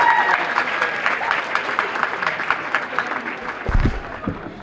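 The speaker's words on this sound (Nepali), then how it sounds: "तपाईँहरू सबैले काठमाडौँ स्कुल अफ लको जितमा जोरदार ताली बजाइदिनु होला" Loud, sustained applause from a crowd celebrating a Kathmandu School of Law win in an inter law school football competition, steady clapping filling the space throughout with a few low thumps near the end.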